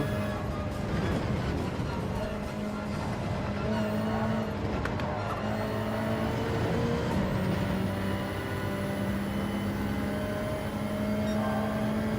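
A race car braking in the Gran Turismo 7 video game, heard as sustained engine drone and tire scrub over several seconds, loud and continuous, with tonal whines layered throughout.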